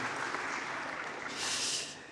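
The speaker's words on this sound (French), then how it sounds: "on peut l'applaudir." Audience applause at a Carrefour marketing event in Belgium, a short burst of clapping that swells slightly toward the end, fairly faint and distant with no talk over it.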